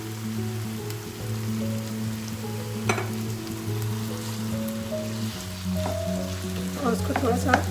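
Minced meat frying with garlic ginger paste in oil in a pan, a continuous close sizzle with crackles and a few stirring clatters, a brief louder spatter near the end.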